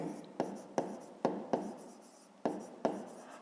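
Handwriting on paper during a 5th-grade math exercise, with close, quiet scratchy strokes broken by sharp taps as the pen lands, repeating in an uneven rhythm of about seven strokes.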